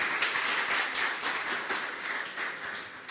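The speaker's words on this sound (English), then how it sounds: "So please, a round of applause for digital face-to-face." Sustained audience applause for a pitch presentation at a startup demo day, a dense wash of many hands clapping steadily throughout with no one speaking.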